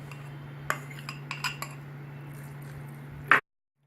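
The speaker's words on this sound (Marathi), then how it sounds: "मिल्कमेड टाकते आणि असं हे छान मी मिक्स करून घेणार आहे।" A metal spoon clinks and scrapes while mixing paneer with Milkmaid condensed milk in a bowl for burfi, giving a few scattered taps over a low steady hum and a louder final clatter before the sound cuts off.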